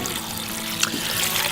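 Vegetable stock poured into a soup pot of vegetable soup ingredients, a steady close liquid pour and trickle running on without a break, no voices.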